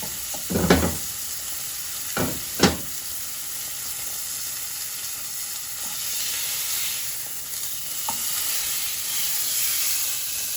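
A fillet steak sizzles steadily in a hot pan, with a constant frying hiss and a few brief clatters near the start, probably as the meat is flipped.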